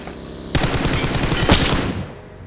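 Gunfire in the PUBG Mobile video game near a bridge, aimed at an oncoming car: two loud, close bursts of rapid automatic shots, the second starting about a second after the first, followed by a fading tail.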